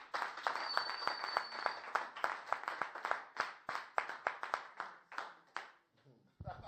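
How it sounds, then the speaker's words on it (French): A church congregation claps irregularly and enthusiastically to acclaim God, with sharp, close hand claps in a loose stream and a few voices calling out, fading at the end. "je veux qu'on acclame Dieu comme pas possible"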